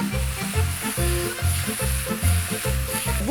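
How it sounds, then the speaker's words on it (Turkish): Carrots and other vegetables, including beetroot, sizzling loudly in a frying pan for a chicken sauté, with a steady fry broken by rhythmic stirring scrapes and no talk. "Havuçlarımı atıyorum ve bir kere daha şöyle karıştırıyorum"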